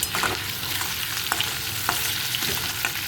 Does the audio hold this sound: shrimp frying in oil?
yes